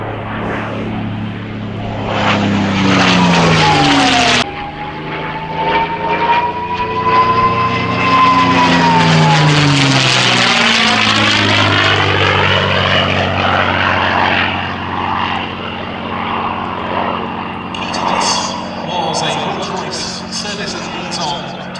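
A P-51D Mustang fighter, 'Tall in the Saddle', with its Rolls-Royce Merlin engine roars past in a flying display at the Festival of Flight, a loud propeller drone sweeping down in pitch as it passes close, then fading.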